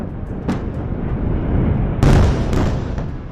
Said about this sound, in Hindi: बेरूत में भी एयरपोर्ट के पास भीषण विस्फोट हुआ।